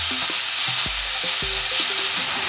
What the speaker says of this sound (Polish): Dajmy im się troszeczkę podsmażyć, tak żeby one nabrały rumieńców